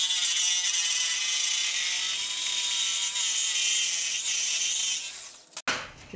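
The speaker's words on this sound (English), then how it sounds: "when you're doing curves with a jigsaw like this, don't force it, don't push the blade" A jigsaw cuts a curve through clamped pallet wood with a continuous, loud, high buzzing whine that holds steady for about five seconds and then stops abruptly, followed by a couple of brief knocks.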